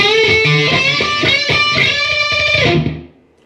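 Distorted electric guitar closes a final solo with sustained, bending lead notes over chugging low chords, loud and up close, ringing out and fading away at the very end.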